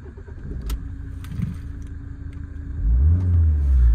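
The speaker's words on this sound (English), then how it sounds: "I'll just start it up for you. You can have a listen to the engine." A 2003 Rover 75 diesel automatic cranks and catches, settling into a steady low rumble close by, with faint clicks before it starts.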